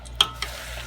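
Hot Cheetos cheese sticks frying in a pan, a soft steady sizzle with two brief sharp pops or stirring clicks near the start, close and fairly quiet throughout.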